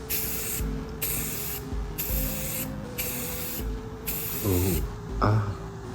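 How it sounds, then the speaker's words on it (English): Bursts of spray paint hissing in steady pulses with brief gaps between side-to-side passes over a costume mask head, joined near the end by a couple of squeaky scrapes. "Spray side to side."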